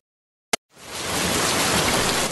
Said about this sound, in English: Maybe it was the rain.